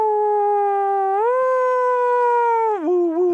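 A smooth, wailing New York police car siren rises, holds, then dips and wavers near the end, loud and close with no talking.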